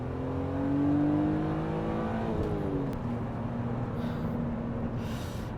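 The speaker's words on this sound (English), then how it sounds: "So let's get on our favorite bit of road here and put our foot down a little bit." A BMW Z3 M Roadster with the S52 straight-six engine, about 240 horsepower, accelerating on an open road, heard from inside the car as a loud, steady engine drone that climbs in pitch, shifts gear, then climbs again over road noise.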